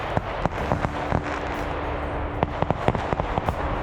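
Artillery simulation blasts at an outdoor airsoft milsim game in Sweden, heard as a rapid run of sharp cracks and pops, some close and loud, others fainter, over a steady background hum.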